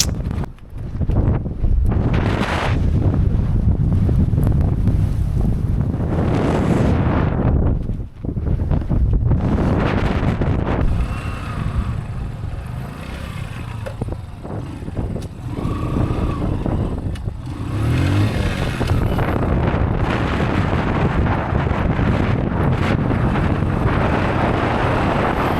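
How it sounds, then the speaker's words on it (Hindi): Sand-storm wind roars and buffets across the microphone during a ride on a Bajaj CT motorcycle on a rough, dusty road in Ladakh, loud and constant with gusty surges and a brief dip. "सामने देखिए दोस्तों, रेत का तूफान आ चुका है"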